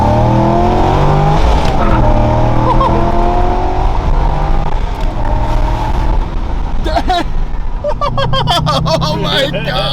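A Corvette C5 accelerates hard and spins its tires, engine roaring steadily with rising revs and shifting tones throughout, heard from inside the car, with excited voices talking over it.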